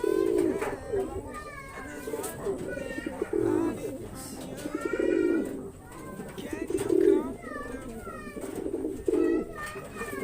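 Racing pigeons coo nearby in repeated soft, throaty rolling calls that overlap one another in a steady cluster throughout.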